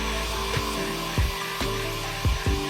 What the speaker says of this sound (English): applying heat to the patched area with a heat gun to get the glue to set